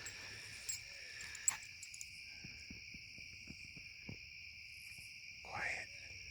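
An owl hoots faintly in the distance at a night campsite in Sprague Brook Park. Steady crickets trill over it and other sounds are quiet.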